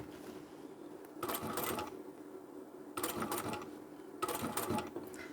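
A sewing machine stitching fabric for a small lined boxy bag, running in three short bursts of rapid mechanical whirring, close and clear, with quiet pauses between bursts and no talking.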